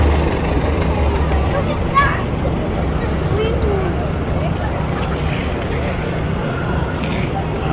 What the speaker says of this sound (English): There's a Farmall M. Tugging through.